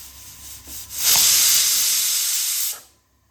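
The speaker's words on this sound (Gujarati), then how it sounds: "હવે કુકરમાંથી પ્રેશર રિલીઝ કરી દઈશું" Steam bursts from a pressure cooker used to cook Surti fada lapsi with ghee, sugar and whole spices, a loud, steady hiss of about two seconds that cuts off abruptly into silence.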